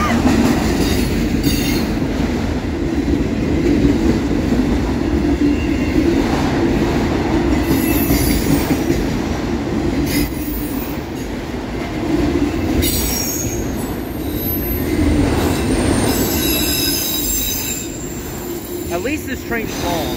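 A long CSX autorack freight train rolls steadily past close by in Homestead, a continuous heavy rumble of wheels on rail with occasional squeals and clanks.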